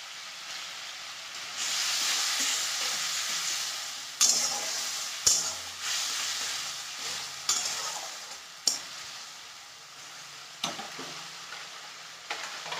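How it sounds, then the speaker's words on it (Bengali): Spice paste with a little chili frying in a pan for a moong dal with bottle gourd, a continuous hiss broken by sharp spatula scrapes and clacks at regular intervals, loud and close, no talking. "যখন মশলাটা কষা হয়ে যাবে টমেটোটা ছেড়ে দেবো"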